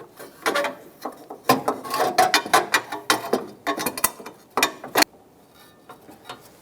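A hand ratchet snugs down bolts on a 2014-2018 Chevrolet Silverado 1500 windshield washer reservoir bracket, with loud close rapid clicking bursts in uneven runs, then a short pause before quiet.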